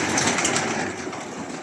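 A mixed flock of pigeons and chickens feeding together in a coop, giving a close, steady bustle of pecking and scratching with faint bird calls and no voices.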